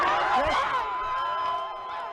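Crowd gathered outside a courthouse, cheering and whooping in celebration of a murder verdict, heard as a loud, dense swell of voices with cries rising above it.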